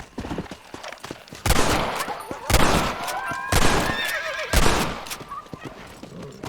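Horse in the Red Dead Redemption game, repeated loud whinnies and snorts in several bursts, with hoofbeats and distant gunfire around them.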